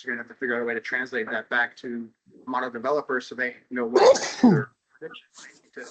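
A person talks steadily, then a sharp, loud sneeze breaks in near the middle before the talking resumes.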